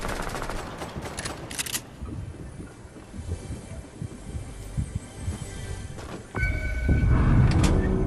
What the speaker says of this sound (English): Trying to get some more from my tactical shotgun.